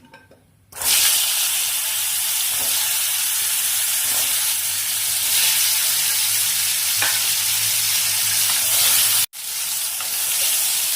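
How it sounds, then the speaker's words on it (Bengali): Pointed gourd (potol) fries in hot oil, a loud, dense, continuous sizzle with occasional stirring, close by, briefly cutting out near the end before resuming. "ওই একই তেলেই আমি পটল ভেজে নিচ্ছি"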